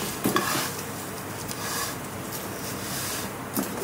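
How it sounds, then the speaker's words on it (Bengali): A full packet of semai vermicelli frying in ghee, stirred with a spoon or spatula so it scrapes and clinks against the pot over a constant close sizzle, with no talking. "ঘিয়ের মধ্যে এখন পুরো প্যাকেট সেমাই দিতে হবে, দিয়ে ভালো করে সেমাইটাকে ভাজতে হবে।"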